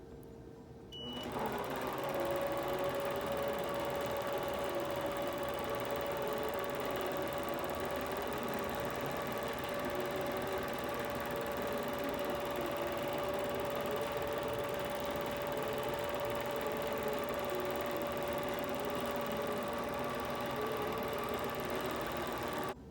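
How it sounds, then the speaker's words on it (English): Intelliquilter computerized quilting machine stitching at higher speed, a steady whirring, rhythmic motor hum with a constant tone, close and fairly loud, running unbroken after a brief start. "now you're going to see exactly how accurately I'm staying to this design as I stitch at a higher speed."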